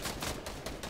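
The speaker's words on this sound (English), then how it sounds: "Somebody's shooting me" Rapid bursts of automatic gunfire aimed at the player in Fortnite, with several sharp, evenly spaced shots cracking in quick succession at moderate loudness and no talking.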